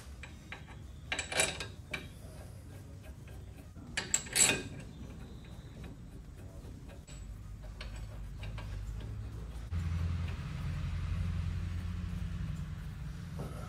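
Hub bolts on a Ford F150 hub assembly are run down and tightened with an 18 mm tool, giving a few sharp clicks and ratchet ticks over a quiet, low background hum.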